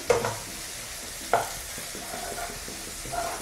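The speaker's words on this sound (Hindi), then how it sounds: "प्याज को हम लगभग आधे से एक मिनट तक पकाएंगे" Sliced onion sizzles steadily in a pan over a fairly high flame, with sharp clanks of stirring near the start, in the middle and at the end.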